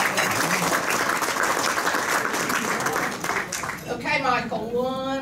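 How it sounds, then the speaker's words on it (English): Rotary Club members applaud during a weekly meeting, a full, even burst of clapping that fades after about four seconds, when a voice starts speaking over the last few claps. "Round of applause for this."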